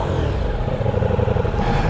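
Brand-new Ducati Diavel V4 motorcycle engine running close by, a loud, continuous low rumble with slight pulsing throughout.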